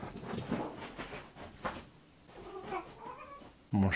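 A house cat meows and caterwauls repeatedly in drawn-out, wavering cries at moderate loudness, close to the microphone, with a sudden louder bump at the very end.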